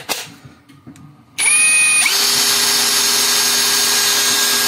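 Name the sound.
LUDYVI BL150 cordless drill-driver drilling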